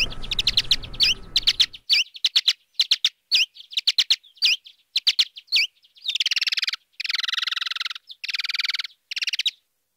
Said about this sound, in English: bats making these social calls that often go into lower frequency ranges